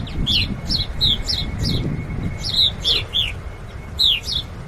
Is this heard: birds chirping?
yes